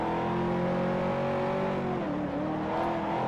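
A McLaren supercar engine in Forza Motorsport 4 holds a loud, steady high-pitched drone, its pitch dipping briefly partway through, with no voices over it.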